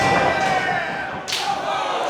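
A punch lands on a wrestler's face during an Artemis Spencer versus Mark 'Golden Gun' Wheeler match, a dull thud over a loud, steady crowd roar, with a sharp slap-like crack about midway through.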